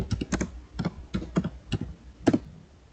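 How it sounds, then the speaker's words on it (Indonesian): Fingers tap out a command on a computer keyboard while configuring a MikroTik network setup, a quick run of close, crisp keystrokes in short bursts with brief pauses between, alone without any talk. "Di sini kita ketikkan saja IP DHCP."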